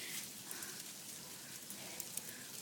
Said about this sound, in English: They're like miniature little things of hail.